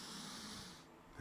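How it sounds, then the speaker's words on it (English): A single slow, deep inhale taken during a standing exercise routine with arms down at the sides; a soft, faint, airy breath heard alone. "Nice deep breath in."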